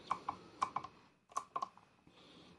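Buttons clicking on a Schneider EM6433H energy meter during parameter setup: a series of sharp, faint, close taps arrive in two irregular bursts, with no talking.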